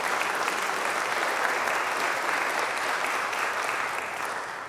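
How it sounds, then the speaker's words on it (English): A concert audience applauds after a Bach organ performance at a memorial concert, sustained dense clapping filling the hall and fading slightly toward the end. "Another round of applause for Peter's beautiful Bach playing"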